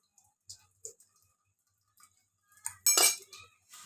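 A spoon stirs sponge cake batter with baking powder mixed in, giving a few sparse, light clinks and taps against the bowl with quiet gaps between them, then a louder, busier scrape near the end.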